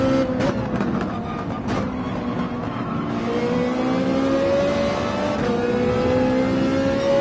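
Porsche 911 engine in Gran Turismo 7 at Willow Springs revving high toward 8,000 RPM, a loud sustained whine with rising pitch sweeps and brief gear-change dips, heard alone.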